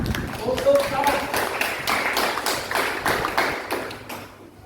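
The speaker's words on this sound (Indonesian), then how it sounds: "tepuk tangan untuk Sarah" Classroom applause for a student named Sarah: a steady run of hand claps from a small group of students, moderately loud and indoors, tapering off toward the end.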